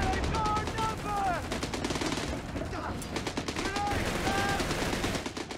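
Rapid machine gun fire in the war strategy game Company of Heroes 3, dense continuous bursts of rattling shots, loud and close, with brief whistling tones over the gunfire.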